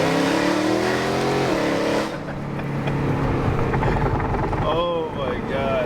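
A BMW E92 engine revs loudly at a car meet, giving a strong continuous roar with rising and falling pitch during a downshift, mixed with other engine noise and voices from the crowd.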